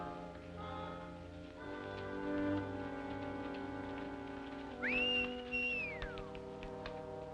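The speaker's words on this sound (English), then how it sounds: "Stop whistling for that horse." A man whistles for a horse outdoors in a rugged Western desert setting, with a rising, held, then falling whistle, fairly clear against a soft, steady background of ambient noise.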